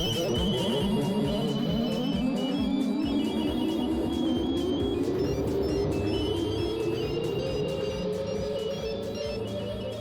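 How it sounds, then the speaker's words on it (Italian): A mobile phone rings with a repetitive electronic melody that fills the whole stretch, loud and close, with no talking over it. "sta suonando il telefonino anche a me!"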